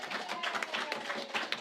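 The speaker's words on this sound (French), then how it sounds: "Canuel, on l'applaudit!" An audience at a French podcast taping claps for a guest, a brief burst of close, uneven hand claps with no one talking.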